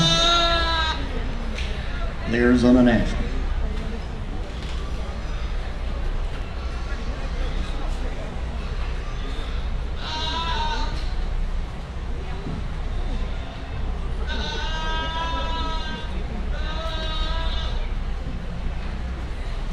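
A show goat in the ring at the Arizona National livestock show bleats repeatedly, with several wavering calls spread across the clip, over a steady arena hum and an announcer's voice talking through the sound system.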